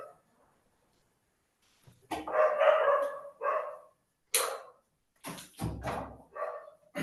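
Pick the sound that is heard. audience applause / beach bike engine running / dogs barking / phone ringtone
dogs barking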